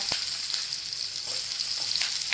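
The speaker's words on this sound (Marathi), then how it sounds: "आता या पॅनमध्ये थोडंसं तेल टाकून घेते पनीर भाजलं आहे ना त्याच पॅनमध्ये आणि याच्यामध्ये कांदा" Chopped onion fries in a little oil in a pan that has just been used for paneer, making a close, steady sizzling hiss with a few faint stirring knocks and no talk.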